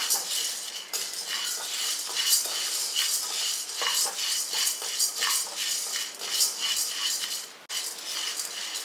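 White sorghum grains dry-roasting in a pan, a close, busy clatter of a metal spoon scraping and clinking against the pan, with grains rattling, steady and fairly quiet.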